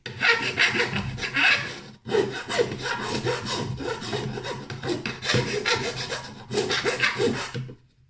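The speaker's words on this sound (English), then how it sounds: "I'm just going to use a file now to just to take all the burring off the edges" A metal file rasps across the edges of a drilled hole in plastic, deburring it with repeated close, loud scraping strokes in bursts with short pauses.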